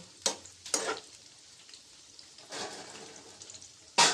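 Pakoras frying in hot oil on a gas stove turned down low, a steady close sizzle with a few louder bubbling bursts as pieces shift.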